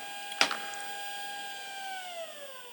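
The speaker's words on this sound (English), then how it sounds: "Listen to how quiet that motor is" Small motor of a DIY lapidary and jewelry machine running quietly, a faint steady whine with a sustained tone that drops slightly near the end, after a brief click at the start.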